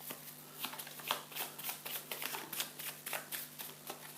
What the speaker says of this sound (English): Shuffle the yellow fate cards together with the other ones